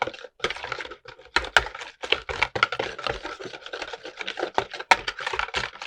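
Dough for Ukrainian verhuny being stirred thoroughly with a spatula after adding sour cream, giving a busy stream of close scraping, knocking and rubbing sounds with irregular sharp clicks.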